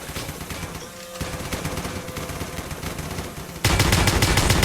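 Rapid, loud machine gun fire from a video game rattles in sustained bursts, close and dense, growing heavier near the end, with no voices.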